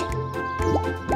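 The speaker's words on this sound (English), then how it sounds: "Lots of bubbles!" Cartoon bubbles blown with a net by a little woodpecker pop and plop in quick succession, wet drippy blips with rising squeaky tones over a light musical backing, close and playful.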